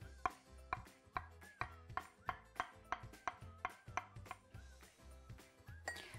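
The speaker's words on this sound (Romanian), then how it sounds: "Și am să-l tai și pe el în cuburi." A knife chops a ripe avocado into cubes on a board, giving about a dozen crisp, evenly spaced knocks at a steady rhythm, close and clear with nothing else audible.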